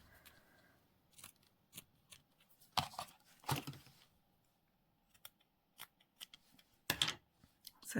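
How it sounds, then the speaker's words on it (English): Scissors snipping a piece of lace in a quiet room, a series of sharp separate cuts and rustles spread unevenly over several seconds, with a few louder clusters of snips. "let's just cut a bit off here"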